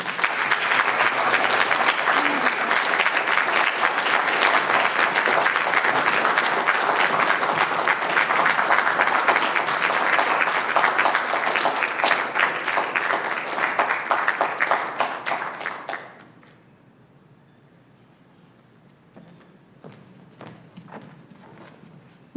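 Audience applause for the winners of the Brookhaven Lab Research SLAM competition: dense, loud, sustained clapping fills the room for about sixteen seconds, then drops suddenly to a few faint, scattered claps.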